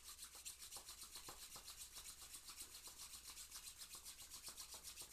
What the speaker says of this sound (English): let's rub the palms together